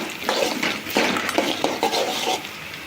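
Onions and green chillies are sautéed in a pan, a spoon scraping and clinking against the metal in irregular strokes with a light sizzle underneath, close and fairly loud.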